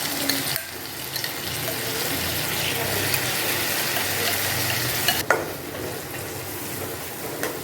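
Whole spices and masala sizzle and fry in hot oil for a pangas fish curry. A continuous, close hiss runs throughout, with stirring scrapes and a sharp clatter near the end.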